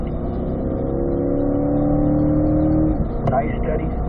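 A 2020 Corvette C8 mid-engine sports car accelerates on a track, its engine note climbing steadily and loud up close for about three seconds before easing off as a brief shift-like break follows.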